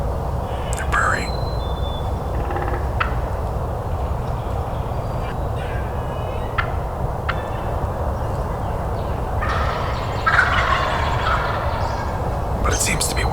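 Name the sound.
wild turkey hens purring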